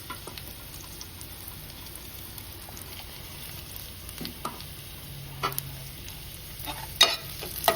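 Prawns and onions sautéing in a pan for a chutney, a steady soft sizzle and frying hiss with occasional stirring clinks and scrapes, close and moderately quiet, with no talking.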